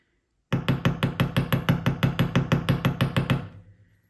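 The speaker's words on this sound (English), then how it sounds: "Turn over, gently hammer, but only very gently." A hammer gently taps copper wire for wire-wrapped skull earrings, about fourteen even, bright metallic taps in a steady rhythm, close and clear, then stopping and ringing briefly into silence.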